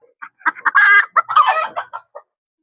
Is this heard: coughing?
no